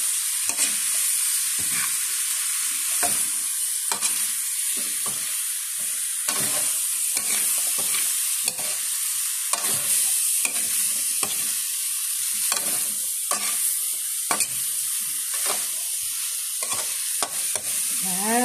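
Vegetables for butter chop suey, including cabbage, sizzle steadily in a hot pan while being stirred, with repeated close scraping strokes that come in an irregular rhythm.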